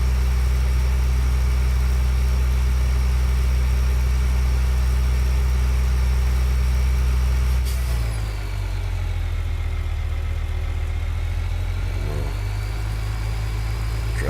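A tractor engine drones steadily while driving in a farming video game, a constant low hum with a shift in tone partway through as the load or speed changes, loud and close without talk.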